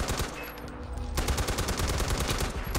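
Rapid automatic gunfire from the video game Far Cry 4, a loud, dense stream of shots firing steadily throughout with no pause, dominating the scene.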